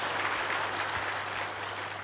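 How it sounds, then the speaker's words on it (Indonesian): Brief, dense wash of audience applause at an MTA departure ceremony, a steady crowd clapping for about two seconds without a clear start or end. "Tepuk tangan."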